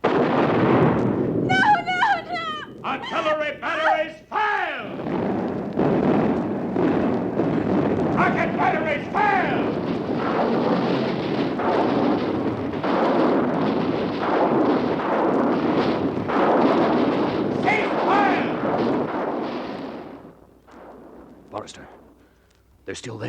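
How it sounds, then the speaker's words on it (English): An artillery barrage sound effect from a War of the Worlds radio drama rolls as a loud, sustained rumbling roar under shouting voices, then fades away near the end. "Artillery batteries, fire!"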